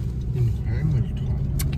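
A Honda car driving gives a steady, low road and engine rumble heard from inside, under a voice talking.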